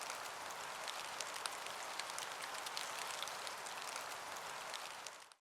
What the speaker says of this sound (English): You wake up, you realize it's raining